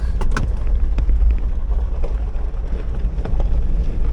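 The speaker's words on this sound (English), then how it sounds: "We'll give it a quick drive with the hood up." A 2005 Lexus GX470 on a short test drive with its hood raised, a steady low engine and road rumble mixed with wind buffeting and a few scattered knocks, continuous throughout.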